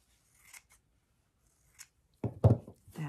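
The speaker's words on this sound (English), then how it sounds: "And then I'm going to trim this extra" Scissors trimming tulle fabric make a few short, quiet snips close by, followed by a louder crisp cut and rustle.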